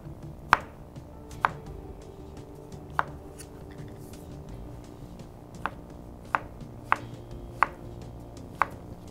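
A knife slices strawberries and raspberries on a cutting board, giving sharp, evenly spaced chops, about eight crisp taps over several seconds against a quiet kitchen background.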